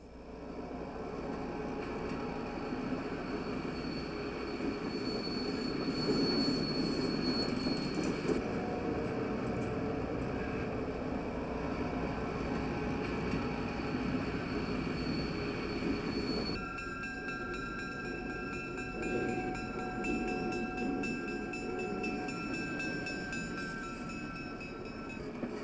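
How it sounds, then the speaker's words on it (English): Union Pacific locomotives swing around a through track in a Chicago station to reach the other side, producing a continuous low rumble with drawn-out wheel squeals and metallic rail tones, a sustained, moderately distant train sound with no speech. "The UP engines swing around the through track to gain access to the other side of the station."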